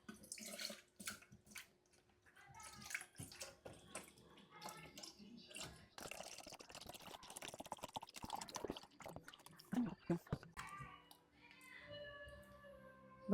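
Jersey full cream milk pours into a pot, a wet splashing, trickling stream that runs unevenly for several seconds, with some clinks and a faint voice nearby.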